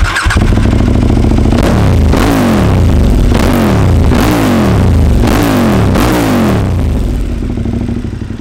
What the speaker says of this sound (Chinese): 没有消音管。